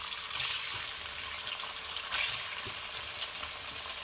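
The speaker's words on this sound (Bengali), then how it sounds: "পনিরগুলোকে ভেজে নেব।" Paneer cubes frying in a pan over a lowered gas flame for a Bengali paneer khichuri, giving a steady, even sizzle that stays close and continuous with no talking.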